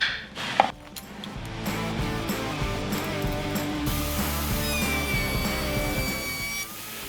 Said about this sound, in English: I need to chamfer a groove where the marble can run down, and I'll do that on my router table